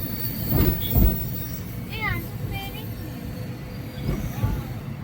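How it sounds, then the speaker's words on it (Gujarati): A train rumbles past near Bilimora railway station, a broad steady roar with surges of clatter and brief high squealing from the wheels, with some voices nearby. "ટ્રેન."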